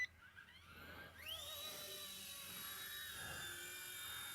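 RCERA C184 MD530 RC helicopter spooling up for an automatic takeoff, a rising whine that climbs sharply in pitch then settles into a steady, close, loud high rotor and motor buzz with no talking.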